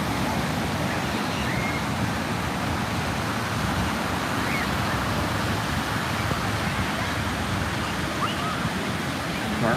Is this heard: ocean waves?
yes